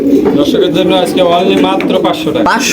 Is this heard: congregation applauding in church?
no